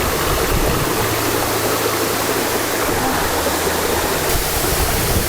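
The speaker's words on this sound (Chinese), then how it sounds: "五峰旗瀑布真的好美哦！" Wufengqi Waterfall in Yilan roaring as a loud, steady rush of falling water with a constant low rumble, close by and without voices.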